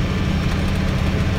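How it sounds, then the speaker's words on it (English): A New Holland tractor engine runs steadily while mowing a large field, a loud, close, continuous low rumble with no talk. "And tonight we're on the tractor."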